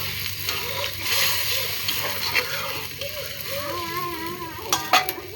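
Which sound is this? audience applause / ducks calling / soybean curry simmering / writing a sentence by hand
soybean curry simmering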